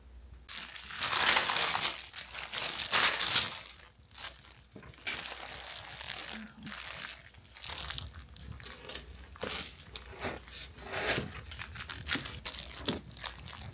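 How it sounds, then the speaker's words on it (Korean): Plastic kitchen gloves crinkle and rustle loudly up close while cutting chewy cookies, in long bursts of crackling, rising and fading with pauses and scattered small clicks. "비닐 소리 너무 심하다"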